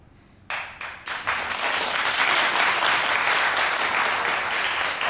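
Applause from an audience greeting Alla Pugacheva begins with a few separate claps after a quiet moment, then swells into a full, loud and steady ovation that holds to the end.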